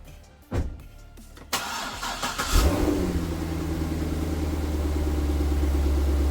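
A rebuilt Chevrolet Corvette C6 starts for the first time: a few clicks and cranking bursts, then the engine catches with a loud rising roar and settles into a steady, deep idle rumble close by.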